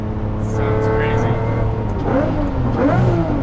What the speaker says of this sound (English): Obviously it's crazy loud because of this aftermarket exhaust, but Ivano told me the stock exhaust